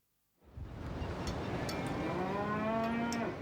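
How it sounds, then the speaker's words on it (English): A single long moo from cattle on the cargo deck of a ferry rises after a brief silence and holds for about three seconds, close and clear, against a faint background rumble. "Sheep and cattle are squeezed onto trailers that are themselves squeezed onto the cargo decks."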